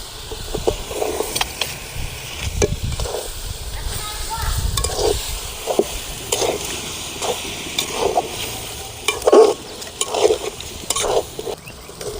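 Bell peppers with moong dal sauté in a pan, a soft sizzle running under repeated scraping stirs of a spoon against the metal, close and rhythmic, without speech.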